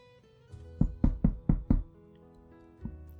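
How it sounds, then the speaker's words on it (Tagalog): A room boy knocks on a hotel room door, five quick firm raps in a row followed after a pause by one lighter knock, close and clear in a quiet room. "magising kami sa katok ng isang room boy"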